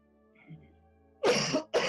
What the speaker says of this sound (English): Excuse me, I keep having to cough.